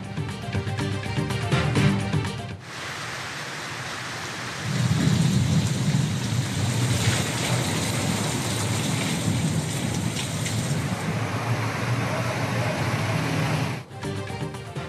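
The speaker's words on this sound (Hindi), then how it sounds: "पंजाब के मुख्तलिफ शहरों में बारिश, गर्मी का जोर टूट गया।" Steady heavy rain pours down with rolling thunder rumbling low beneath it, loud and continuous throughout, brief cuts at the start and end; no voices.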